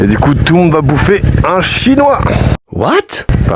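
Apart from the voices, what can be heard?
No distinct noise like a dog, phone or traffic.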